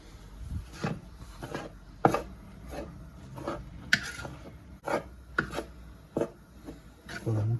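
Cooked couscous being stirred and mixed with salt in a bowl for Moroccan couscous, giving soft, irregular scraping and rubbing strokes with occasional sharper taps, close and moderately quiet, with no talking.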